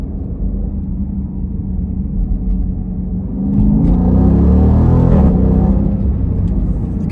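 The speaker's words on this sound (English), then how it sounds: "We're gonna do a little pull, and I'm gonna show you exactly what this thing has." Deep engine rumble of a Jeep SRT Grand Cherokee in sport mode as it pulls hard, the roar swelling louder and rising in pitch midway through and staying strong to the end, heard from inside the cabin.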